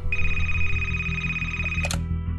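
A telephone rings close and loud, a steady electronic trill with a buzzing pulse underneath, cut off abruptly near the end, no talk.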